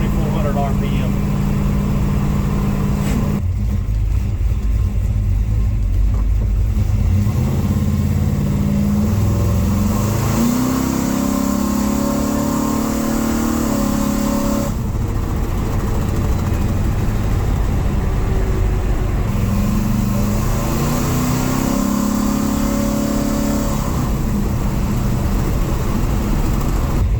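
A truck engine runs at about 2400 RPM while cruising near 45 mph, a continuous loud drone that swells and dips in pitch as the load changes over nearly half a minute.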